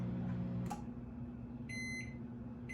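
Microwave oven finishing a cycle of cooking corn on the cob: a low steady hum, then a few short, high electronic beeps toward the end, fairly close and quiet.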